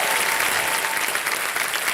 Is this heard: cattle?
no